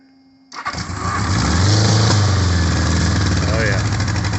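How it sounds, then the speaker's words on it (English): A 1978 Honda Goldwing motorcycle engine cranks briefly after a quiet moment, then fires and settles into a loud, steady, close idle with a low throbbing rumble. "So let's start it up real quick and see how it sounds."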